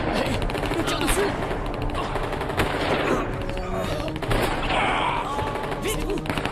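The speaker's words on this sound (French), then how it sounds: "On tire dessus." Dense, sustained gunfire from an action film, with rapid machine-gun bursts and scattered single shots rattling steadily through the scene at close range, mixed with crashes and thuds.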